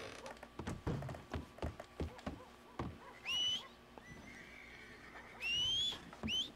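A horse in Red Dead Redemption 2 gives two distinct high whinnies a couple of seconds apart, preceded by scattered thuds and hoof-like clops in the game world.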